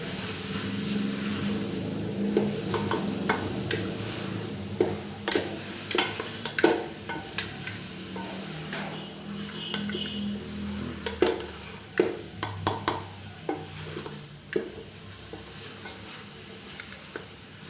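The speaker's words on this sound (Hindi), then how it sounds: "अब हम तकरीबन इसको 5 मिनट अच्छी तरह से भून लेंगे" Moringa (sohanjna) stir-fries in a pan with a steady sizzle, and a spoon scraping and stirring adds frequent sharp clicks over the frying. Close and moderately loud.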